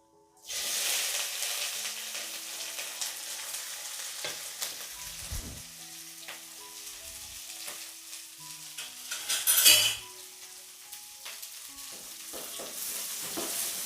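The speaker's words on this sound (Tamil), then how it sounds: "இப்போ நம்ம அறுத்து வச்ச வெங்காயம் பச்சை மிளகா கருவேப்பில் இதெல்லாம் நம்ம போட்டுக்கலாம்" Chopped onion, green chili and curry leaves hit hot oil and fry with a loud, steady sizzle, broken by a few utensil clinks and stirring scrapes, with a sharper crackle burst near the end.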